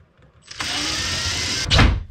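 A power drill bores a hole into a wooden boat's instrument panel, a single loud whirring burst of about a second with a brief harder grind as the bit breaks through.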